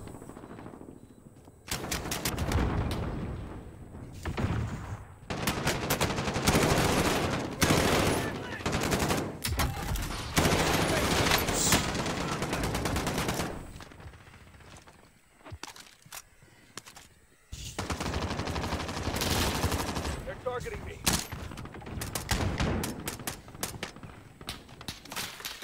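Video game gunfire in bursts of rapid automatic shots, loud and close, separated by short quieter gaps, with some faint background noise between bursts.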